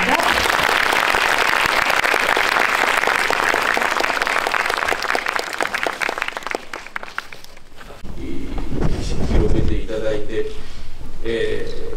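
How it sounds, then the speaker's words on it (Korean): An audience at a special guest-talk screening of Kiyoshi Kurosawa's film Cure claps loudly for about eight seconds, a dense roar that thins out before a speaker's voice follows over the fading claps. "큰 박수 부탁드리겠습니다"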